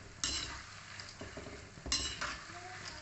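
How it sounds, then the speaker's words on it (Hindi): Namkin khajur dough pieces fry in hot oil over a high flame while being stirred, giving a steady sizzle with scraping stirs and clinks of the utensil against the pan, two louder bursts of stirring near the start and middle. "इसको भी सुनहरा होने तक हम तल लेंगे चलाते हुए।"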